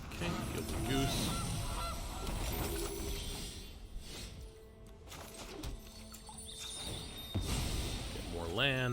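Cartoonish goose honks from a Magic: The Gathering digital card game sound over busy game effects and music, repeated squawking bursts with a person talking now and then.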